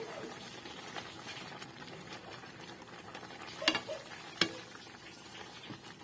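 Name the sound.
stirring squash and kangkong with sardines in a pan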